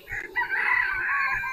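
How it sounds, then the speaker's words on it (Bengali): Chickens at a market in Kuwait, a rooster crowing loudly and close over a brief moment, with faint background bustle. "এই মুরগি পাখি এই সবই সব পাওয়া যায়"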